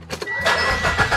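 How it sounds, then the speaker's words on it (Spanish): A car engine cranks briefly and catches, settling into a steady running hum, close and loud, with a faint electronic beep tone; the car has a newly installed anti-theft immobilizer cut-off. "Echo a andar el auto."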